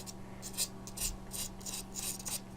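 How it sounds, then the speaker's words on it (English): Chalk scrubbed onto the bumpy, uneven tip of a PowerGlide Airstrike pool cue, giving a series of short dry scraping strokes in a steady back-and-forth rhythm, close up over a low background hum. "the chalk doesn't go on brilliantly, because it's all bumpy, the tip"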